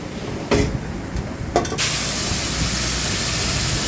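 Mung dal and goat meat tipped into hot oil with browned onions in a wok, bursting into a loud, steady sizzle that starts abruptly and holds as continuous hiss.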